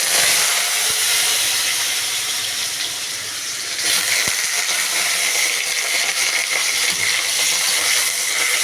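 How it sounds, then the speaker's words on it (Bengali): Potatoes frying in hot oil already used for lentil fritters make a loud, dense sizzle that runs unbroken throughout, with a couple of faint clicks and a brief surge partway through. "এদিকে ওই বড়া ভাজার তেলেই আমি এবার প্রথমে আলু ভাজবো।"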